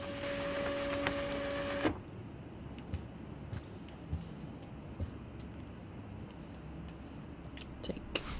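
In-game office printer from Life Is Strange printing out an email: a loud, steady mechanical whir that runs for about two seconds and then stops abruptly, leaving quiet room ambience with a few faint ticks and clicks.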